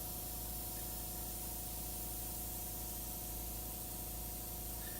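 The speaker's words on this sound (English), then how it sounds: "if you just barely start to push down on the trigger, you'll get just a little fine mist" A Copic airbrush gives off a steady fine-mist spray, a constant even hiss that holds unchanged from start to finish at close range with no voices.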